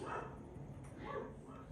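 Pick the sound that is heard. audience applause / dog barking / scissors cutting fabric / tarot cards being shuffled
dog barking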